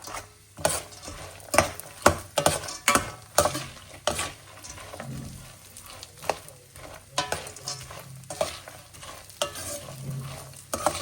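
A spoon scrapes and stirs roasting dal with curry leaves and raisins in a pan, giving rhythmic metallic knocks over a steady background sizzle.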